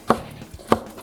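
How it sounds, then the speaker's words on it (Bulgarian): Two sharp knife chops on a board cutting boiled, cooled lamb offal, evenly spaced and close, with quiet gaps between. "Сега трябва да я нарежа и да продължим с нарязването на зеленчуците"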